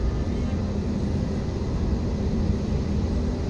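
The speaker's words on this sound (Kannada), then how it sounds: "ಫ್ಲೈಟು ಟೇಕ್ ಆಫ್ ಆಗ್ತಿದೆ" A Cathay Pacific airliner taking off, heard from inside the cabin as a steady, loud, even engine roar with no voices.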